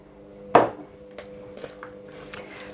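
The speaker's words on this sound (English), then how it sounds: "pop a pear in now, a nice big pear, and mix that in" A utensil knocks sharply against a mixing bowl while chopped pear is stirred into cake batter for a pear loaf cake, followed by softer scrapes and taps, close and quiet, with no talking.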